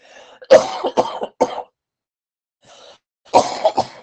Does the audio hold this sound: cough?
yes